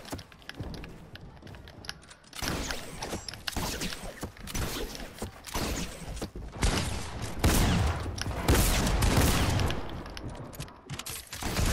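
Video game gunfire in rapid bursts and volleys, loud and close, building in intensity with mechanical clicks between shots and no talk.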